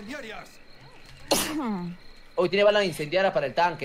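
A single sharp person's sneeze bursts out amid Spanish chatter among players of a Left 4 Dead 2 versus match, with voices talking before and after it.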